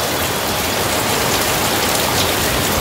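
Steady downpour at a hillside homestay in Chisang, North Bengal, rain drumming in a thick unbroken hiss that stays even and near throughout.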